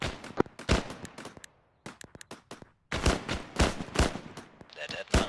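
Rapid bursts of gunfire in a military combat video game, sharp loud shots in quick clusters with brief pauses between, mixed with voices talking over the action.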